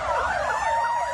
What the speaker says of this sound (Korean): 신고를 받고 출동한 소방차가 도착하는 모습도 보입니다.